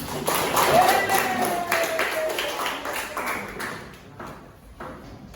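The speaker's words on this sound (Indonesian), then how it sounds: "Beri tepuk tangan teman-teman." A classroom audience applauding a student group, a dense patter of many hands clapping that fades toward the end, with voices mixed in underneath.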